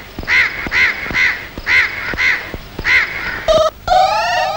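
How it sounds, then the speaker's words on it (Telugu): A crow caws close and loud in a steady series of about eight harsh calls, followed by a couple of quicker, different bird calls at the end. "ఇప్పుడు కాకి వేత్తి"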